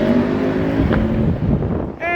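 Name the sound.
Ducati V4R motorcycle engine with Cordona quick shift and auto blip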